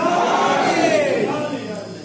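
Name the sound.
crowd answering the Nara-e-Haidari slogan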